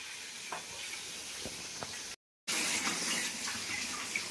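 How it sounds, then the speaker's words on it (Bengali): Shrimp being washed under running water, a steady faucet stream with a few soft splashes, cut by a brief gap before resuming slightly louder. "চিংড়ি মাছটা একটু ধুয়ে নিচ্ছি ভালো করে"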